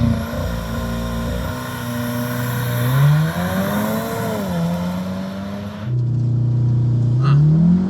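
A Volkswagen Golf R fitted with a bigger turbo and louder exhaust pulls hard from a standstill, its engine drone climbing steadily through the revs, dropping at a shift and rising again, loud and sustained from inside the car.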